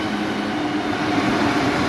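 Steady rumble of a Mexico City metro train in motion, a continuous low roar with a faint humming tone, close and unbroken.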